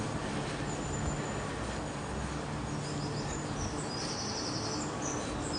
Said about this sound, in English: just sit back and listen to the birds